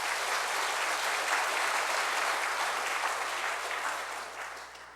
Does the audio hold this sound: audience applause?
yes